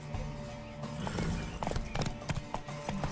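Horse hooves clip-clopping in The Witcher 3 video game, a steady run of close hoofbeats under a continuous game soundscape and background hum.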